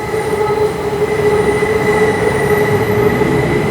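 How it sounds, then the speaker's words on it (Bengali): An elevated metro train passes overhead at Phaya Thai in Bangkok: a loud, continuous rumble of rolling wheels with sustained metallic squealing tones, close and steady throughout, with no talk. "দেখুন ব্যাংককের ফার্ম গেটে মেট্রো ট্রেন যাচ্ছে উপরে"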